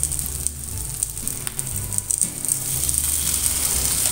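Chopped onions and tomatoes sizzle and fry steadily in a pan, a continuous close hiss with low crackling and occasional stirring scrapes, growing slightly louder toward the end; no one speaks.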